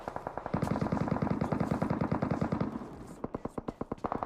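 Rapid automatic gunfire in the PUBG Mobile video game. A continuous fast burst of shots lasts nearly three seconds, then a second, sparser string of loud, close cracks follows.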